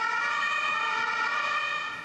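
Emergency sirens wail through a city at night, a continuous multi-tone siren with steady pitch bands, moderately close, fading slightly at the end with no talk.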